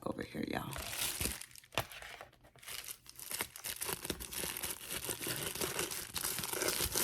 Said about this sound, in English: I'm using the applique scissors.